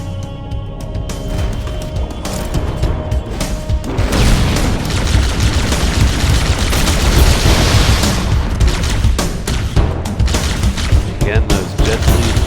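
Heavy gunfire and explosions in the Halo CE video game, including shotgun blasts, fill the clip as a dense, loud, continuous barrage with booms and rattling shots throughout.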